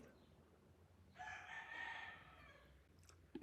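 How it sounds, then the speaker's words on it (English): A rooster crows once in a single clear, drawn-out call, moderately loud over a quiet background, with a short sharp knock right at the end. "Cock-a-doodle-doo, eh?"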